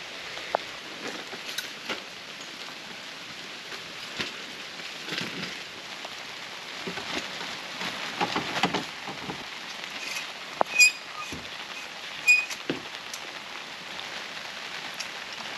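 Rain patters onto a blue Ozark Trail 8x8 shelter at a riverside campsite, a soft continuous hiss scattered with louder individual drops and taps, close by and with no voices.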